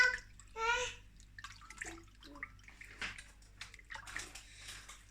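Hands squish and slosh through water in a bowl, working salt and yeast into it, with soft wet splashes and drips coming in uneven bursts, close and fairly quiet.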